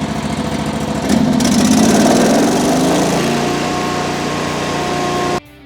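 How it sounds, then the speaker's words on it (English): DV23 vacuum package engine roaring at full throttle, a loud steady mechanical drone that rises in pitch after a second, holds for several seconds, then cuts off abruptly. "Now after we have the vacuum running, right here is our throttle."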